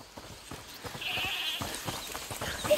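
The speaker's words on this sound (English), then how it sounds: "Is that the goat he talked about?" A goat bleats inside a locked-down place in A Plague Tale Requiem, a clear, drawn-out cry rising midway over soft footsteps and quiet ambient noise.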